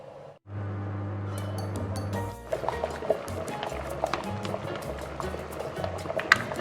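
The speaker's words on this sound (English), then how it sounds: "so guys, it's boiling" Cassava flakes boil in a covered pot for Nigerian akpu mmiri, giving a steady bubbling, rolling simmer with faint clinks and drips that persist at close range without talk.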